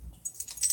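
Keys jangling on a single D-ring key ring, a short close metallic jingle that builds over under a second with no talking.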